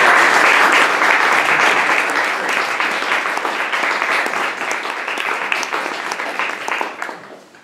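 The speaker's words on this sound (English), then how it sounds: "stand up and acknowledge our applause" A crowd applauds steadily, dense clapping that gradually thins and fades toward the end.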